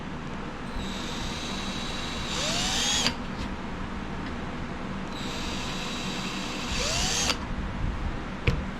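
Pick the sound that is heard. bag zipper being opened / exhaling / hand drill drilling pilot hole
hand drill drilling pilot hole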